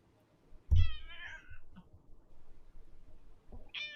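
A cat lets out one clear meow near the start and a shorter second meow at the end, with quiet handling noises and faint rustling in between.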